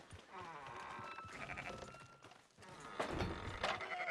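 Sheep bleat repeatedly in Red Dead Redemption 2, several wavering calls at moderate distance over a faint game ambience, with no talk over them.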